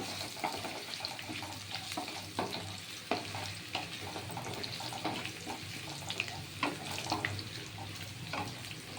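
Potatoes fry in oil for a Bengali fish murighanta, with a soft continuous sizzle and bursts of scraping and stirring clatter in the pan, no talking over it.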